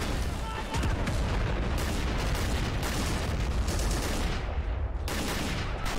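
Dense, continuous battlefield gunfire from the Blue army in the Army Men game, a steady loud barrage of shots and booms that rolls on without pause.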